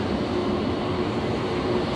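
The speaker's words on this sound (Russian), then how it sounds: "Трамвай едет." A tram rumbles past nearby on a city street in Freiburg im Breisgau, Germany, with a steady, even roar and a faint tonal whine, no voices heard.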